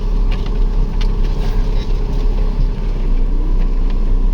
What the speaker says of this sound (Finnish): nyt Eemeli löyti kaasu, niin se meinaa kokeilla vähän